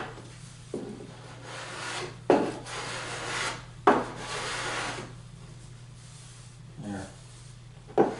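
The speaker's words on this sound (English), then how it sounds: "The rest can be done with sanding." Close, rough rubbing strokes of abrasive on wood, several long passes with brief pauses and small knocks between them, over a low hum.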